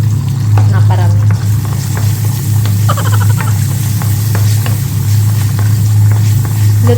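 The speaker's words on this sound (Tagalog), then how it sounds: "igisa natin ng sibuyas, bawang at kamatis" Onion, garlic and tomato sauté in a pan in a kitchen in the Netherlands, a loud, steady sizzle with scattered crackles and stirring scrapes over a low constant hum.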